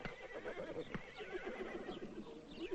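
Tethered horses at an expedition camp whinny and neigh, one clear call over a soft background of movement and faint hoof sounds, heard at moderate distance.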